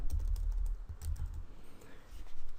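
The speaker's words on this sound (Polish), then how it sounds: "Wpisujemy nazwę użytkownika, hasło" A username and password typed on a computer keyboard make a steady run of close, soft key clicks throughout the clip, with no voice over them.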